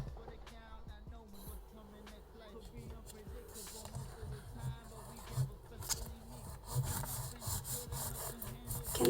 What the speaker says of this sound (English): we're just gonna have to easily rub off the gum with your finger, just like that.